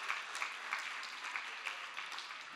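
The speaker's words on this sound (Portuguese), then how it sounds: "Salva de palmas para quem está lá atrás." Faint, distant applause from a congregation at a Christian gathering, a soft steady wash of many hands with light rhythmic peaks and no speech.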